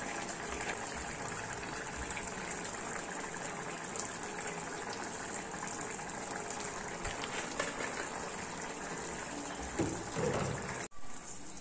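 Jackfruit seed and dried fish thoran simmering in a pan as its water boils off, giving a steady bubbling, hissing texture that holds evenly throughout, with a brief clatter near the end.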